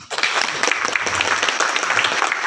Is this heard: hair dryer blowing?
no